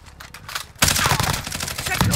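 Dense, sustained gunfire from a video game erupts loudly after a quieter opening and keeps rattling without a break until the end.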